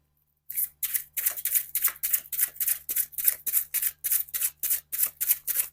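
Tarot cards shuffled by hand in quick, crisp riffling bursts, about a dozen repeated flutters in a steady rhythm, close and clear over a faint low hum, with no talking.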